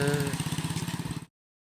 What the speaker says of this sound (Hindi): मैं भी इस बाइक को चलाने जा रहा हूँ।